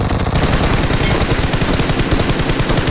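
Rapid automatic gunfire in the mobile battle royale game BGMI, a loud, dense burst of fast repeated shots with a steady rattling rhythm, close-up and continuous through the whole moment.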